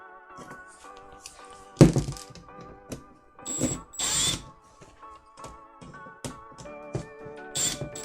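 A power drill whirs in short bursts, loosening a screw on a homemade repbox, with mechanical clicks and small tool knocks between the runs.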